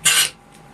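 A power hacksaw's dashpot damper pushed on air pressure alone gives one short, breathy rasping hiss of air, close and brief, followed by quiet.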